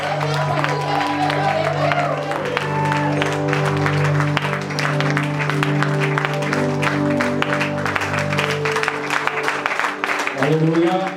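A church congregation applauding during a worship service, dense sustained clapping from many people mixed with cheering voices and a tonal background of music, loud and continuous throughout.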